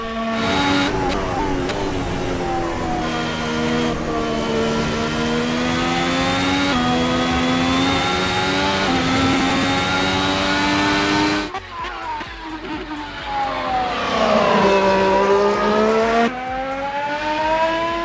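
A Ferrari Formula 1 car's engine howls steadily at high revs around the Spa circuit in a racing video game, pitch rising and falling through gear changes with a brief dip in the middle, loud and continuous with no talking.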